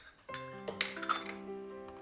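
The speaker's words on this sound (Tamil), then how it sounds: "இதை நல்லா ஒன்று சேர கலந்துக்கலாம்" A spoon clinks against a bowl while ragi buttermilk porridge ingredients are mixed: a few bright metallic taps and ringing chimes, close and clear, then a fading resonant hum.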